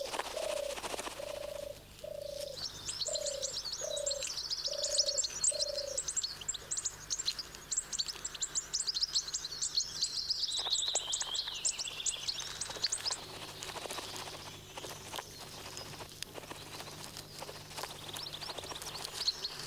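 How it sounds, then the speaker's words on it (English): Goldfinch chicks begging their parents for food, a long run of high, thin chirps and twittering calls repeating rapidly, with a few lower pulsed calls early on, fairly close against faint background noise. "The chicks follow their parents and beg for food."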